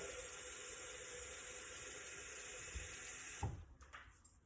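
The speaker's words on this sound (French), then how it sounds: "De l'eau à hauteur des lames et un petit peu de liquide vaisselle." Tap water running steadily into a Thermomix bowl with a little dish soap, a close, even hiss and splash that cuts off near the end, followed by a few faint drips and clunks.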